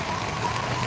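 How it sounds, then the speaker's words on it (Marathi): Steady, dense rain pours down with a continuous hiss, even and unbroken throughout. "मुसळधार पाऊस पडलेला आहे पडत आहे"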